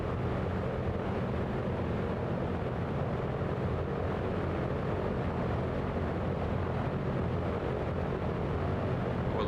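Steady, loud drone of the B-17's big old piston propeller engines in Microsoft Flight Simulator 2024 over the Grand Canyon, a constant broadband rumble with no pauses and no talk.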